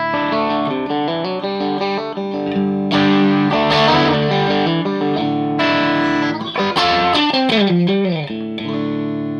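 Electric guitar through a Rory Gallagher Hawk Boost pedal, volume rolled back, plays chords and single-note runs with mild grit, fairly clean and responsive at lower volume, close and steady, no talking.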